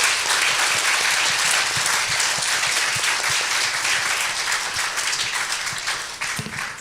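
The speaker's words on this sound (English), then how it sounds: "Let's give a round of applause to our panel." An audience at a panel event gives a round of applause, dense steady clapping from many hands that holds for several seconds and begins to thin toward the end.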